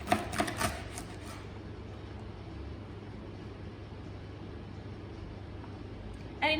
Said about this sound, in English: we're going to chop it in half